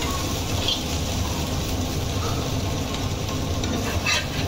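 Steady sizzle of a Gujarati dish frying in a pan, a continuous hiss and crackle with occasional stirring scrapes, close and evenly loud throughout.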